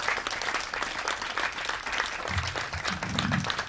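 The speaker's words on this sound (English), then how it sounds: "he deserves the round of applause" A crowd applauds Sergeant Major Kirk at an 82nd Airborne Division change of command ceremony, dense steady clapping filling the whole stretch and swelling slightly toward the end.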